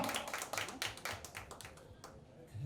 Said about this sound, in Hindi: बेचारे अपनी ताली दे रहे और अपने आप को अप्रिशिएट कर रहे